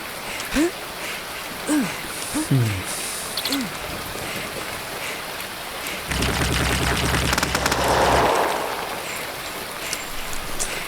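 Rapid gunfire rattles from a zombie shooting game, a dense sustained burst of several seconds midway, mixed with thuds and creature groans and someone talking over it.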